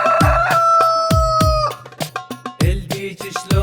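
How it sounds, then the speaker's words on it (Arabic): Rooster crowing in a children's song: several loud, close cock-a-doodle-doo calls in quick succession, followed by shorter clucking bursts, with no voices. "الديك شلون يصيح"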